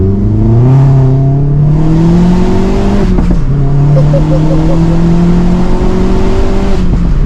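Audi TT accelerating hard in sport mode, a loud close engine note rising in pitch through the gears with a brief dip at a shift, heard from inside the car.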